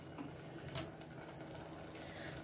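A ground spice paste being sautéed in a pan, a steady faint sizzle with one brief scrape of a spoon near the start, no talk.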